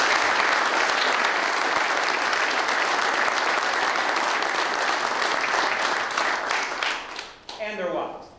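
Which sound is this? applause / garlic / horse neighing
applause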